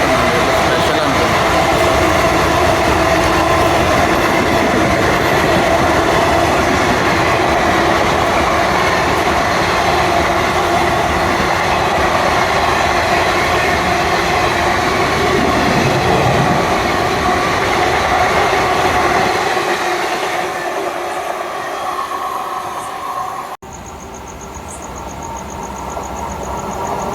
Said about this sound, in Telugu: ఇటు నుంచి ఒక ట్రైన్ వస్తుంది